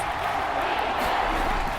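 In a football video game, with the Falcons playing at Kansas City, the home stadium crowd keeps up a dense, steady roar of distant cheering without breaks.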